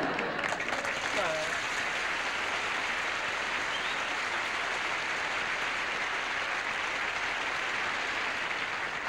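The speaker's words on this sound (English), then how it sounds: "You can clap some more." Studio audience applause fills a television comedy-variety show stage, a steady dense wash of clapping that runs loud and unbroken throughout, with a brief voice near the start.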